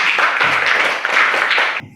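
Children in a classroom clap for a classmate, a dense burst of many hands beating together for nearly two seconds and then stopping abruptly.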